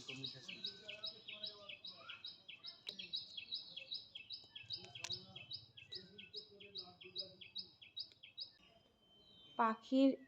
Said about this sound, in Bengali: এত সুন্দর পাখির মিষ্টি মধুর যে কণ্ঠস্বর